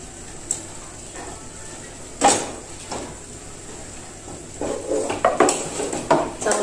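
A spoon stirs paneer cubes into simmering spinach curry in a metal pot, giving scattered scrapes and clinks with a few sharper knocks against the rim, moderately close and with no talking.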